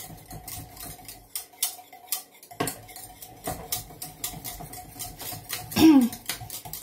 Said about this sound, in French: je remets sur le feu. Il ne faut pas s'arrêter de mélanger